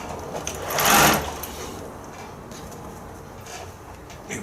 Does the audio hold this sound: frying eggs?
no